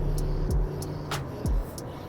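A Mercedes-Benz W124 E500 accelerates at full throttle, a low, steady engine drone from inside the cabin with two brief dips like gear shifts, plus faint periodic ticks, and no talking.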